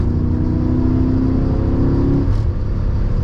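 A BMW E39 M5 with its naturally aspirated V8 and eight individual throttle bodies revs, a loud, sustained engine roar with rising tones that drops away near the end.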